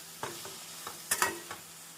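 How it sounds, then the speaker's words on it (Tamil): Eggplant sautéing with onion and tomato in a kadai over medium heat for a tamarind curry: a faint background sizzle broken by a few sharp spatula scrapes and taps against the pan, no voices. "நாம் கத்திரிக்காயை சேர்த்து 1 நிமிடம் வெங்காயம் தக்காளியுடன் நன்றாக மிதமான தீயில்"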